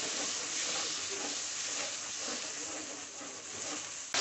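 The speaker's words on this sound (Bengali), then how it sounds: "আদা আর টমেটোটাকে আমি তেলের সঙ্গে খুব ভালোভাবে কষিয়ে নেব।" Grated tomato and ginger are sautéed in hot oil, a steady broadband hiss and sizzle, moderately loud and close, continuing evenly without pause.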